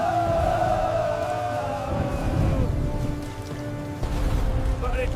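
Heavy storm rain pours steadily as a dense, continuous wash, with low rumbling underneath, a tonal moaning layer early on and a faint higher cry near the end.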